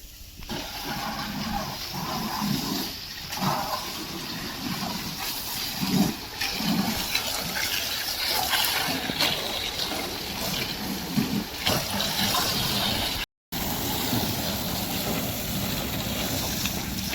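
Mahindra XUV being washed outdoors with a pressurised water jet, a steady loud hiss and spray of water that runs almost without a break, with faint wind and background noise mixed in.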